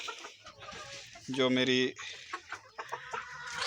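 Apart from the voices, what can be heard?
hens clucking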